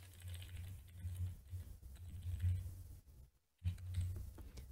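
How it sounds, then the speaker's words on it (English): Computer keyboard typing while a campaign name is entered, soft rapid key clicks in short runs with a brief pause, faint and close over a low hum. "Go ahead and type in the name of your campaign."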